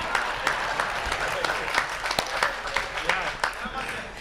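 An audience at a stage event applauds the host with steady, dense clapping at a moderate distance, sharper individual claps standing out, and a voice talks over it throughout.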